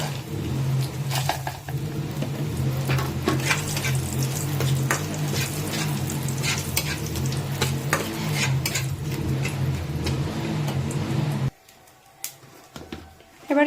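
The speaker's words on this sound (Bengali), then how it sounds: "এবার কটা ডালের বড়ি দিয়ে দেবো।" Lentil dumplings (bori) frying in a pan after a fish head, a busy sizzle with stirring scrapes and utensil clinks against the pan, then a sudden drop to near quiet near the end.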